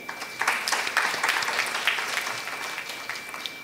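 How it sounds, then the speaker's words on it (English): Conference delegates at an international academic conference give a round of applause, fairly steady clapping of moderate loudness heard from a distance with a faint constant tone behind it. "A round of applause for one and all present here."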